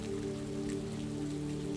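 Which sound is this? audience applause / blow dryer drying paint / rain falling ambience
rain falling ambience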